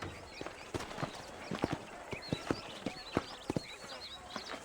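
Horses trotting in Red Dead Redemption: a steady, fairly quiet clip-clop of hooves in an even rhythm, heard alone.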